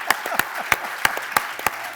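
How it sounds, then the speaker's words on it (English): Scattered audience clapping at a travel industry innovation awards ceremony in Europe, a handful of distinct sharp claps over a faint room background at moderate distance. "A round of applause, please."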